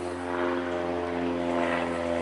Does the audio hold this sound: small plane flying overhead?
yes